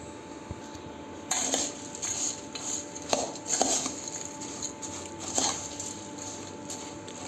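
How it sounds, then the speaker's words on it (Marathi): Bhel is mixed with homemade tamarind and jaggery chutney, with a spoon clinking and scraping against a bowl in a few sharp strikes and soft rustles, close up and quiet. "आता मिक्स करूया"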